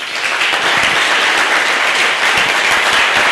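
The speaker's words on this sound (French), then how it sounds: "Ça s'applaudit." A large audience at a church ministry gathering breaks into sustained, dense applause, loud and close, with clapping filling the whole moment without a break.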